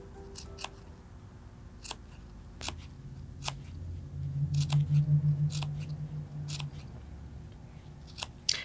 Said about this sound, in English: we're going to make some little clips, not all the way to the stitching